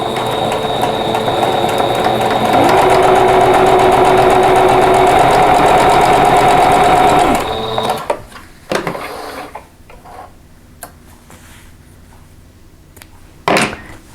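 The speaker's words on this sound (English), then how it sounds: "We're just going to sew this seam right here." Sewing machine stitching a quilt block seam for a tulip block, a steady loud mechanical whir running about seven seconds before stopping, followed by quieter handling clicks and a brief thump.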